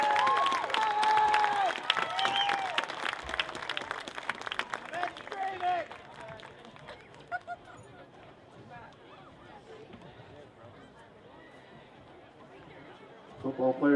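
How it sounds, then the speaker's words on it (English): A crowd at a high school football game applauds and cheers, dense clapping strongest at the start and thinning out into a quieter murmur of chatter, with an announcer's voice heard over the opening. "How about one more round of applause for the class of 23 senior football players"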